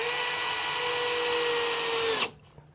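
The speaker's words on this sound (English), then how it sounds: "It's amazing what having a fresh battery does too in your drill." Cordless drill with a fresh battery driving a screw into a wall stud, one steady loud high whine for about two seconds that stops abruptly, then near silence.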